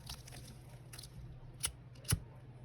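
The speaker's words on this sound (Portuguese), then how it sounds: "cortar o fio aqui, ó" Two crisp scissor snips through crochet yarn while making a crochet clutch bag, short, close and fairly quiet, spaced apart over a soft background hiss.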